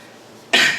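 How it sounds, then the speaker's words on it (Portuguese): A single sudden cough, loud and close, from a speaker giving a talk at a psychoanalysis colloquium, after a brief quiet pause. "desculpe pela tosse"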